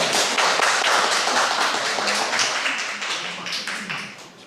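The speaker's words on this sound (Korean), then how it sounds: "박수로 맞아주시기 바랍니다" Audience applause welcoming a presenter at an AI industry event on cars and artificial intelligence, a dense burst of clapping that holds steady and then gradually fades out over a few seconds.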